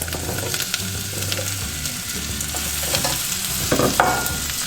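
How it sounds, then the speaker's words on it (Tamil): Onion, garlic and potato sauté in a pan for asparagus soup: a steady sizzle of frying runs throughout, with repeated scraping stirs growing louder toward the end. "இதில் இப்போ வெங்காயம் உள்ளி ரெண்டையும் வந்து போட்டு வதக்குவோம்"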